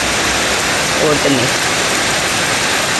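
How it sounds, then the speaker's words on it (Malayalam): Rainwater pouring off roof tiles during a summer shower: a constant, loud, broadband hiss of falling water with no distinct individual drops, and a person speaking briefly beneath it. "ഓട്ടുനിന്ന് വീഴുന്ന വെള്ളമാണ് കേട്ടോ."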